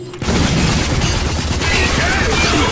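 Gunfire from the video game Rage rattles in a dense, continuous loud burst after a brief quiet start, with booming low rumble underneath.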